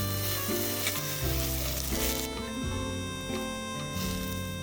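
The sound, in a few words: marinated eggplant frying in a pan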